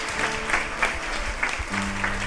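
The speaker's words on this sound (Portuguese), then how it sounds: "Dá uma salva de palmas bem calorosas" A church congregation at an evening blessing service gives a warm round of applause, steady, dense clapping that fills the room throughout, with faint voices beneath.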